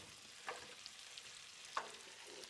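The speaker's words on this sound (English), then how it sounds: "Basically, you're just frying them." Potatoes fry in a pan with olive oil, garlic, butter and seasoning, a faint soft sizzle broken by two brief stirring scrapes, with no voices.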